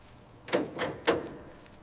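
Metal on an old 1956 Packard Caribbean sitting in a barn gives three drawn-out creaks in a slow, uneven rhythm, close and moderately loud against a quiet background.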